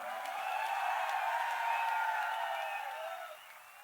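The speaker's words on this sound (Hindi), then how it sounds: "आवाज और ताली कैसी आनी चाहिए, सोचो आप।" Audience at a wellness product event clapping together in a dense, sustained round of applause that swells and then tapers off toward the end, with no voices over it.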